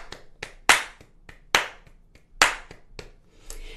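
Crisp hand claps in a steady rhythm, softer claps between louder accented ones roughly every bar, close and dry with no talking.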